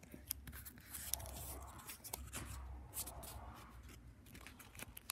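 Sellotape being pulled off a roll and cut, close crinkly rasping and tearing with a few sharp snips and clicks, quiet and intimate.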